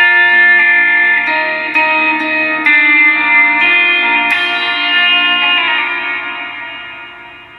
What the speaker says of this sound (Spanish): Escuchen cómo con estos efectos dejo de tocar y sigue sonando de fondo la reverb y el delay.